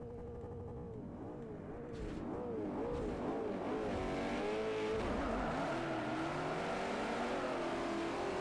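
An Audi race car in Forza Motorsport 4 revs loudly alone, its engine pitch sweeping up and down through repeated gear changes with some tire squeal, growing louder after the first couple of seconds and staying steady and close.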